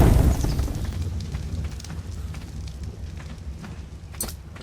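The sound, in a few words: campfire being lit in ARK Survival Evolved video game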